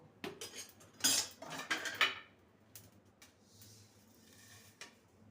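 Metal spoon scrapes and clatters against a pan as fried spices with sesame seeds are transferred into a bowl, a burst of close clinks and knocks in the first two seconds, then a few sparse taps.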